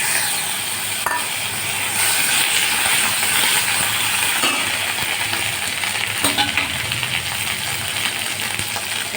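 Ginger paste drops into a hot spice tempering for bitter gourd dal, giving a loud, continuous close-up sizzle and crackle that holds steady throughout, with a couple of sharp clinks of a utensil and no talking.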